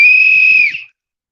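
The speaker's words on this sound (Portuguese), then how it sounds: "Vou só para um apito aqui para entoar um canto de Mestre Humberto." A whistle blown before a folk song, one steady shrill piercing tone held for most of a second, loud and close, then sliding down and cutting off into silence.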